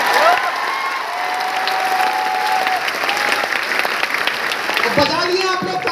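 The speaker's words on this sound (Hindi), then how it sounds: "तो ताली बजाइए लोग एक बार सर के लिए और जोरदार ताली" A crowd at a motivational talk for NEET and IIT students claps loudly and steadily for several seconds, with a voice speaking over the applause.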